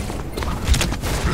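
Gunfire in the shooter game Overwatch 2 crackles as a quick burst of sharp shots over the game mix, with one heavier low thump partway through.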